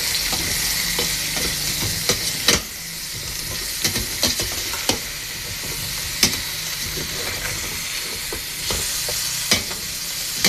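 A spoon stirs native chicken tinola in a pot, producing a steady sizzling hiss broken by a handful of sharp scraping knocks against the pot at irregular intervals.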